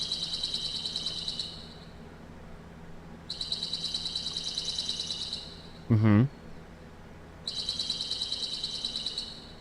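Bright birds chirping in a Payday 2 game ambience, repeated bursts of high twittering song separated by quieter gaps, with one brief lower warbling call in between over a soft background hum.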